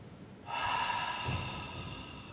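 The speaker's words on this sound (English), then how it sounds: "We want to get down into the belly, the diaphragmatic breath." Deep diaphragmatic belly breathing during a yoga session: one long, close, hissy breath that starts abruptly and carries on steadily for about two seconds, with no talking.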